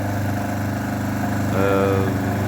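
A 3 kW generator, rated at 2.8 kW, runs out on frozen fields at minus five degrees. Its engine drones steadily and close, and the tone shifts slightly partway through.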